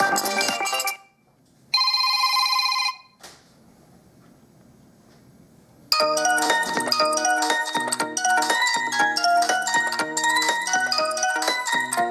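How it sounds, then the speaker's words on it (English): A JIAKE X3S smartphone ringtone plays in short bursts, then a pause, followed by a bright, busy electronic melody that repeats loudly to the end. "general, voice call ringtone, and let's try this one"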